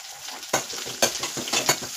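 Garlic paste sizzles in a hot pan for a cauliflower curry, a steady frying hiss broken by a few sharp bursts as it is stirred, close and fairly loud.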